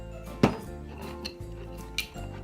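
Slime ingredients being stirred in a bowl, with a utensil clinking and scraping against the dish in a few sharp knocks over soft, steady mixing noise, close and with no talking.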